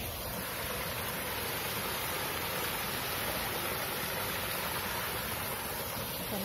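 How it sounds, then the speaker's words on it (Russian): A small waterfall at the Beppu hot springs in Japan gives off a constant, even rush of falling water, a broad steady hiss with no breaks and no voices. "Это водопадик."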